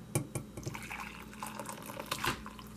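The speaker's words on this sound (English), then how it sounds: "we're going to pour it into my mug" Boiled Coca-Cola and lemon tea is poured into a mug, giving soft liquid trickles and drips with a few faint clinks, heard fairly close.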